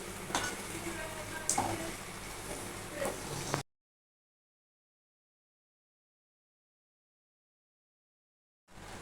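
Modak sugar mixture being stirred in a pan over lowered gas heat, a steady scraping and bubbling texture with a few louder knocks for about three and a half seconds, then near-silence before the stirring briefly resumes.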